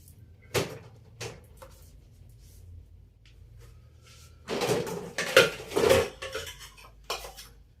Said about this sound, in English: So let's wash utensils.